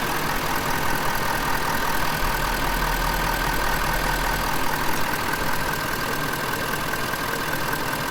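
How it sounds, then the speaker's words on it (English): The engine of a 2020 Ford Powerstroke diesel truck fires up and idles, a loud, close, continuous rumble with a rough low-frequency chatter and no talking. "So now I'm gonna fire it up, and we'll see."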